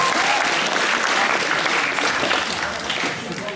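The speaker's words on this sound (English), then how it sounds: "Round of applause, please." Crowd applause in a room, many hands clapping densely and continuously at close range, with a slight taper toward the end and voices mixed underneath.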